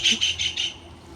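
A bird mobbing a snake gives a quick run of four sharp, high chirps close by, evenly spaced and fairly loud, then falls silent.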